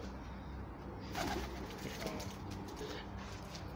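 Racing pigeons in Faisalabad cooing softly at a distance, faint low murmuring calls over steady background noise with a brief flutter, no talk.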